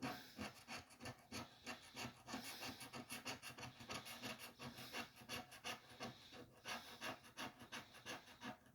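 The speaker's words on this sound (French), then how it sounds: "on gratte, en espérant avoir une cathédrale" A coin scratches across a scratch-off lottery card in quick, rhythmic rasping strokes, close and faint, repeating in short bursts with no speech.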